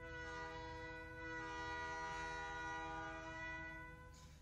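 A train passes with a long sustained horn blast, the tone holding steady for several seconds over a low rolling rumble of the cars.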